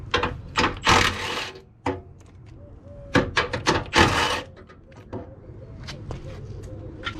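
Bolting an MXR traction bar onto a Honda CRX brings close, loud bursts of ratchet clicking and metallic clanks, separated by short pauses and softer handling noises.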